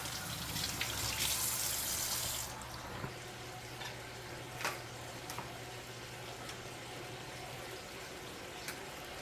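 Tap water running as a garden coconut is washed, a close rushing splash for the first couple of seconds, then a softer steady trickle with occasional clinks and drips.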